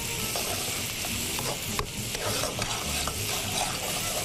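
Onions fry in a pan for a roasted vegetable chicken soup, a dense, steady sizzle close by, with occasional soft scrapes and taps from a stirring utensil and no talk.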